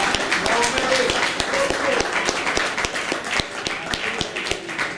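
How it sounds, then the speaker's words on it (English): Live audience gives a round of applause at an evening charity event, scattered sharp claps from a modest crowd, fairly close and uneven, with some talking underneath. "Please give them a round of applause"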